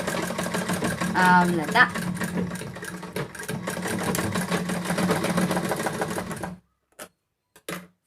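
A sewing machine runs in a steady, fast mechanical whir while stitching a blouse shoulder seam, with a brief spoken word over it; the motor stops near the end, leaving silence and a couple of short clicks.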